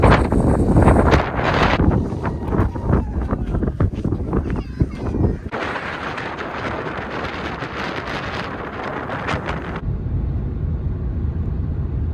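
Strong wind blasting sand across a Colorado campsite, a loud roaring gusty rush battering the microphone, shifting in intensity and continuing throughout with no clear speech.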